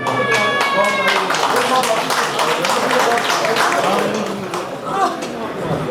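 An audience claps to welcome a guest onto the stage at an album launch night, a lively patter of hands building and then easing off, with some voices and crowd noise underneath.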